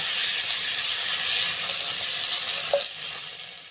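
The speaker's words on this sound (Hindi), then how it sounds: "इनको लाल किए बगैर ही इसमें ये तमाम मैं गर्दनें डाल दूँगी और हम इनको 2 से 4 मिनट तक भूनेंगे।" Chicken necks frying in a pan, a dense continuous hiss of sizzling oil heard up close, steady and loud, easing slightly toward the end with one faint clink.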